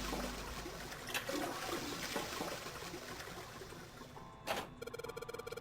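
A toilet in the game 999: Nine Hours, Nine Persons, Nine Doors flushes with a steady rushing water sound, then a short loud gurgle and a rapid series of clicking tones at the end.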